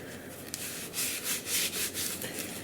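An old sock worn over the hand rubs excess off a leather knife sheath, giving repeated close swishing strokes in an uneven rhythm with no talking.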